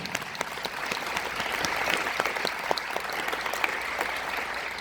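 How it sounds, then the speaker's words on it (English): An audience claps steadily after jazz band solos at a middle school honors concert, a full room of dense, even applause rising slightly and holding, with no talking over it. "How about another round of applause for all the solos?"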